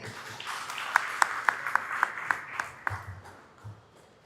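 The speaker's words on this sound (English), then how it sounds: "Big round of applause for Sonia." An audience claps for a design talk, a short burst of applause with a few sharp, distinct claps rising out of the general patter before tapering off, moderately near and not very loud.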